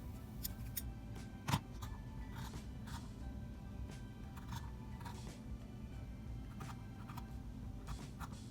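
Scissors cut through the fabric of a shift dress along a marked line, making quiet, close snips and crisp clicks spaced irregularly, with one sharper snap.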